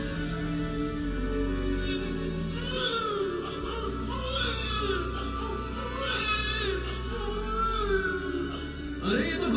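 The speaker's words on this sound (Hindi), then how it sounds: "अरे ये तो बच्चे की रोने की आवाज है" An infant cries in wailing bursts over a swelling orchestral score and low rumble at a light and sound show depicting Krishna's birth in Mathura, the crying fairly close amid the music, with no clear speech.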